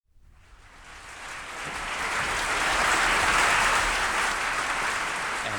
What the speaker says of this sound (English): that applause from our Film Award audience tonight